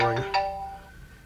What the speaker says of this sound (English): phone will start ringing